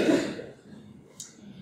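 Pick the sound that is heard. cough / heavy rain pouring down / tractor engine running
cough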